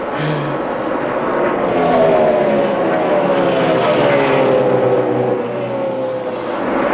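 NASCAR stock cars roar past at the 2007 Samsung Radioshack 500, a loud, dense engine howl that swells and sweeps down in pitch as the pack passes close by, with no voices heard.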